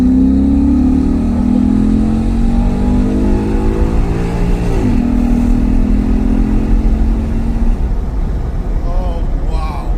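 A Maserati GranTurismo V8 roars loudly through its exhaust, holding a deep steady drone, then rising and dipping in pitch as it revs, with excited voices talking over it throughout.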